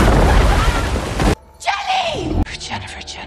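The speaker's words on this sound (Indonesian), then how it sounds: "akibat ledakan dari tembakan Mang Bebeng, Mila dan Jenny terpisah oleh reruntuhan bangunan" An explosion triggered by a gunshot in an action film blasts loud and broadband for over a second, then cuts to quieter ambience with a falling whistle-like tone and further softer rumbling hits.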